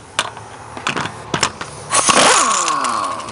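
Loose lug nuts spinning off an 8-lug wheel, a few sharp taps and clinks followed by a loud, sustained metallic whirring zing with a falling ring, close by and with no voices.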